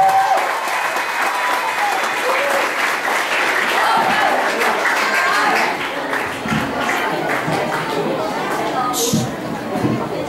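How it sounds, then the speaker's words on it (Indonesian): A school audience at an Islamic Maulid Nabi celebration claps steadily, with crowd chatter and a few shouts mixed into the applause throughout. "beri tepuk tangannya semuanya"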